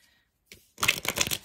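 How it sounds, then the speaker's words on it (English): Oracle cards being shuffled by hand make a brief flick, then a close, crisp flurry of papery riffling that lasts well under a second, with nobody speaking. "I feel like I'm going to give it a good shuffle first"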